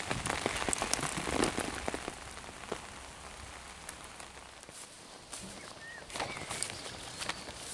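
Steady rain patters on a surface nearby, with scattered louder drips standing out against the constant hiss.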